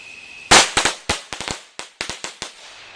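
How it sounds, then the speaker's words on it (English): String of firecrackers going off outdoors during Fourth of July celebrations, a quick irregular series of about a dozen sharp cracks and pops over two seconds, loud and close, after a brief faint whistle. "those are firecrackers"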